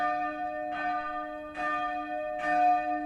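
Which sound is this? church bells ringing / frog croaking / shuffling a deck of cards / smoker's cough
church bells ringing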